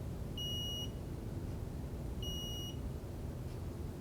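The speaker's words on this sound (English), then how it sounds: "And then it increases over here and raises the alarm." Extech MO290 moisture meter alarm sounding as a wooden piece's reading rises from a wet towel behind it: two high, steady electronic beeps about half a second long, spaced nearly two seconds apart, clear above low background hum.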